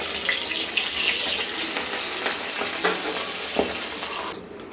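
Pabda fish sizzle in hot oil in a pan, a dense continuous frying hiss with scattered pops and crackles as the pieces are turned, the sizzle cutting off abruptly at the end.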